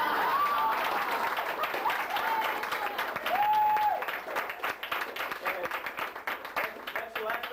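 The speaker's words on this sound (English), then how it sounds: "Give one more round of applause here" A room of guests at an 80th birthday party gives a round of applause, steady clapping carried under a voice, with a few whoops, thinning toward the end.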